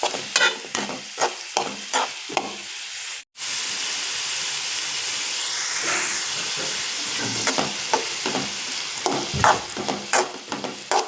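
Grated raw papaya for a Kerala-style thoran is stirred in a pan. A rhythmic series of scraping strokes sounds over a continuous sizzle, with one brief silent gap partway through.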